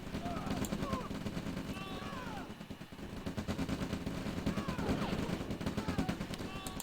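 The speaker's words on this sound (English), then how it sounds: "here comes a V2 rocket launcher, finding decent hits" Gunfire and explosive blasts from a V2 rocket launcher in a real-time strategy game battle, a dense continuous barrage with chirping and whistling effects on top, loud throughout with a brief dip partway.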